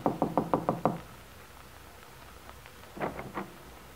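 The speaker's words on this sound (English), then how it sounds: "Getting out, she walks to the door of Bungalow B and knocks." Knocking on the door of Bungalow B at the Wakefield Auto Court: a quick run of six sharp raps, a pause with faint room tone, then a softer second burst of four or five knocks.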